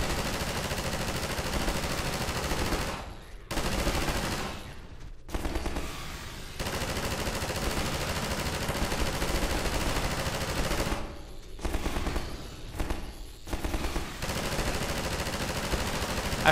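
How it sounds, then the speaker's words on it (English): Sustained machine gun fire in the Half-Life video game, a dense, continuous rattle of gunshots with short gaps, loud and close throughout. "How they're just like running out into machine gun fire."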